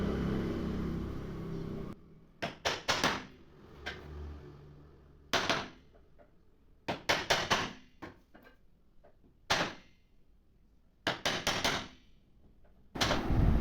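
Sharp, uneven bursts of a tool cutting into Elanji, a fairly hard timber, while shaping parts for a wooden easy chair, repeating in irregular clusters with quiet gaps and a low background hum at the start.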